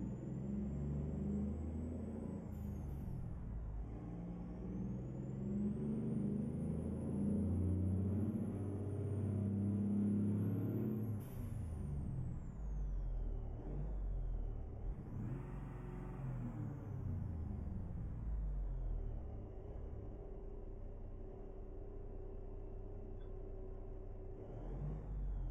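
Heavy diesel engine of a Peterbilt 388 wrecker tow truck in American Truck Simulator, a steady low rumble that revs and shifts through gears, loud and continuous from start to finish with no talking.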